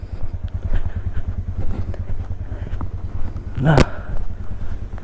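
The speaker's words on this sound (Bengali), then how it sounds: "কিলোমিটার রিডিং এখন আমার বাইকে রয়েছে উনত্রিশ হাজার সতেরো আর আমি রাইড স্টার্ট করলাম" A Bajaj Avenger 160 motorcycle idles and pulls off at the start of a ride, its engine giving a steady low thumping pulse, with a brief sharper burst near the end.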